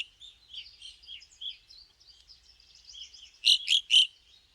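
Evening grosbeaks chatter in a soft, busy stream of high chirps that sounds like a small flock, then three loud, sharp, close calls ring out in quick succession.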